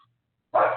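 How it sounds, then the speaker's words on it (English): A single short dog bark arriving abruptly after near silence, fairly loud and close, lasting a fraction of a second. "So I'm sure you could probably hear my dog barking in the background."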